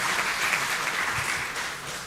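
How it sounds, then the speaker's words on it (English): Students at an orientation session applaud themselves, a short burst of steady, dense clapping from a seated audience. "Give a round of applause to yourself."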